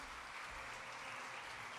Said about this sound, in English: One quick round of applause for them.